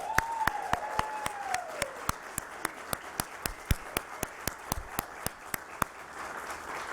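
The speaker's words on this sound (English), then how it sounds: "How about a round of applause for that?" Evenly spaced sharp claps in a steady rhythm with a faint whistling tone early on, like a few people clapping together at close range.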